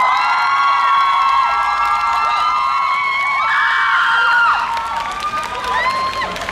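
A theatre audience cheers, whoops and applauds as the cast of the musical Swag Age walks onto the stage at a mini concert in Marronnier Park, a loud continuous crowd roar with high shouts and screams throughout.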